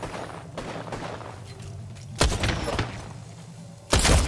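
Gunfire in a squad-based battle royale shooter match, with bursts of broadband shots and two loud, close blasts standing out near the middle and end over a steady low game rumble.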